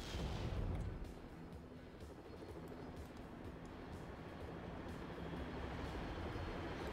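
Rhino artillery firing in the real-time strategy game Act of Aggression: a faint, distant battle rumble with scattered booms and sharp reports, a stronger blast at the start, then dull continuous fire.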